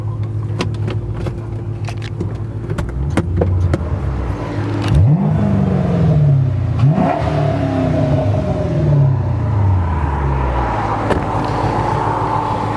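A 2006 Chrysler 300 SRT8 with an aftermarket exhaust and K&N intake accelerates hard from inside the cabin, engine revs rising and dropping through several gear changes with a deep, loud exhaust drone throughout.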